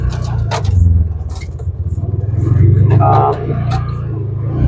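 A 2015 Polaris Ranger 570 UTV with a CVT and power steering driving along, its engine a steady low rumble that swells and eases slightly, with someone talking over it.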